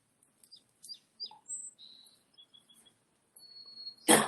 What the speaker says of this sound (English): especially hear all the birds chirping? It makes me very happy.